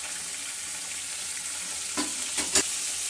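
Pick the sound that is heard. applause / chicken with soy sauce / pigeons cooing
chicken with soy sauce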